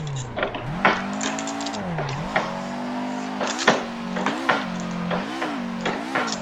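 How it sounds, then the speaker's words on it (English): A car drifting in third gear in the video game Assetto Corsa, its engine note rising and falling with repeated revs while tyres squeal in short bursts, loud and steady throughout. "Can't even hold the third gear drift in this now."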